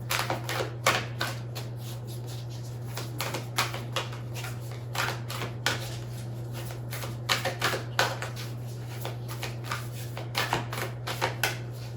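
A deck of numerology cards is shuffled repeatedly and close by for several seconds, giving irregular riffling bursts over a steady low hum. No one talks.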